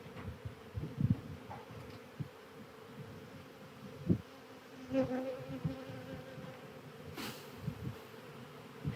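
Honeybees dropping off hive frames during a beekeeping field day make a steady, low insect buzz with a few louder buzzing passes and light handling knocks, and no one speaks.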